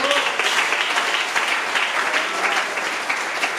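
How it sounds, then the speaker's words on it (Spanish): A church congregation claps for the Lord, a steady, fairly loud wash of applause that lasts the whole moment with no clear speech over it. "Den un fuerte aplauso al Señor."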